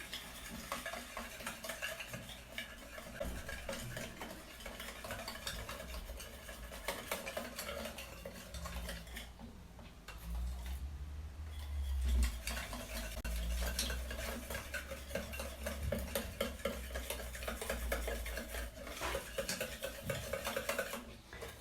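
A homemade face mask mixture made with Dove soap is stirred in a small bowl, producing continuous scraping, clinking stirs that run steadily without pause, close to the microphone, with no speech.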